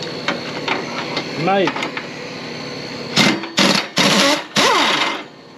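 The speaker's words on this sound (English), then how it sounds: "Gonna remove this here crankshaft bolt." A Briggs & Stratton engine's crankshaft bolt is loosened with bursts of loud, harsh mechanical whirring in several short runs, following squeaky tool noises, with someone briefly speaking.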